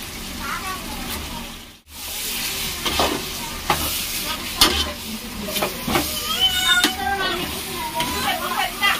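Chicken pieces sizzle and fry in a pan for biryani with yogurt, with repeated stirring scrapes and a steady crackle throughout, and voices are heard over it.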